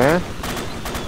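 Gunfire in a Vietnam War mod of the ARMA 2 video game: a few sharp, broadband shots crack out at irregular intervals, with a voice heard briefly at the start.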